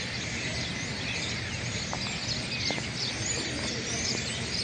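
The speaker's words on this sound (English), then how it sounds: "look at all the birds. Can you see them?" Many birds chirping and calling outside a church sanctuary after a service, forming a dense, constant chorus of overlapping tweets at moderate distance.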